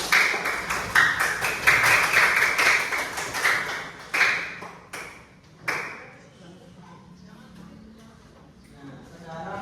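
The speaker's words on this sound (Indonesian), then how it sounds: "Oke, tepuk tangan tadi atas kerja kelompoknya." A classroom of students claps for group work, a bright, busy round of applause that thins into a few scattered claps and fades, with a teacher speaking nearby.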